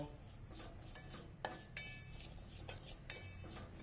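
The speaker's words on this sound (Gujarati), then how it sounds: "આપણે આ રીતે સેવને ભૂકો કરીને વાસણની અંદર એટલે કે તપેલીમાં થોડીક શેકી લઈશું" Crushed vermicelli roasting in a pot on low heat, stirred with a utensil that scrapes and clinks against the metal in scattered light strokes over a quiet background.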